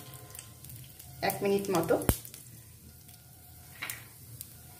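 Black mustard seeds, about a spoonful, frying in hot oil for coconut chutney, a short burst of sizzling and popping crackles with one sharp pop, then quieter sizzle, and a brief spoken phrase over it.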